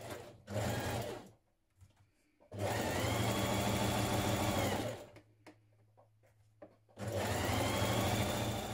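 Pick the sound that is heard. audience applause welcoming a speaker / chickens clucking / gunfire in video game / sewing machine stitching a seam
sewing machine stitching a seam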